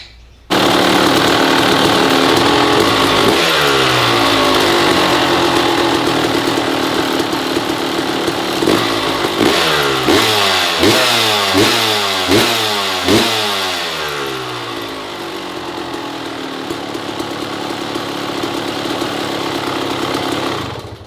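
A two-stroke Suzuki RM 250 dirt bike engine runs loudly up close, steady idle broken by a series of sharp revs in the middle before settling back to a raspy, high idle.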